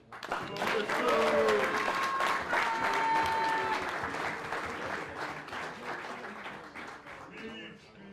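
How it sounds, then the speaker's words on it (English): A banquet audience applauds Coach Thome, the freshman coach, at the Orange Lutheran 2021 banquet, with sustained dense clapping that swells quickly and then slowly tapers, mixed with scattered voices and a few cheers. "let's get a round of applause for Coach Thome as he comes up here"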